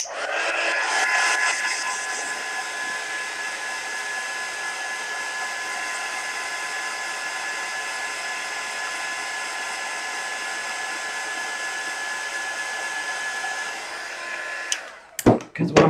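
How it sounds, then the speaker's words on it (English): A heat gun blows steadily on wet paint, giving a loud continuous whooshing whir with a faint whine that holds for about fifteen seconds, then cuts off and is followed by a few handling clatters. "Just let me hit it with the heat gun just a little bit."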